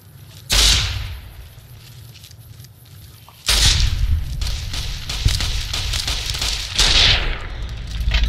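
Gunshots in Fallout New Vegas: three loud, close blasts spaced a few seconds apart, each trailing off in a ringing decay, with scattered crackles between the later shots.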